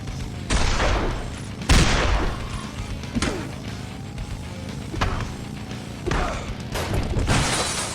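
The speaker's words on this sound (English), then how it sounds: "I gotta bring out the fucking gun" Gunfire in the video game Road Redemption: a string of heavy, booming shots mixed with crashing impacts, spaced irregularly over a busy, loud background.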